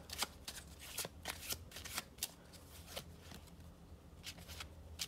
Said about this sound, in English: this is the overhand shuffle